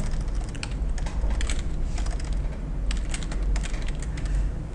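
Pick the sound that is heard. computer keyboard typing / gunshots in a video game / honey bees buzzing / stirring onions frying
computer keyboard typing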